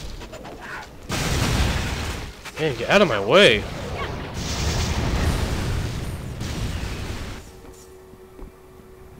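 Booming explosions in the video game Torchlight II during co-op play, a loud sustained blast sequence mixed with game effects while players talk over it.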